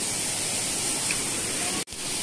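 A woodland waterfall at a campsite gives a loud, continuous broadband rush, briefly cut by a sharp dropout near the end before the rushing returns.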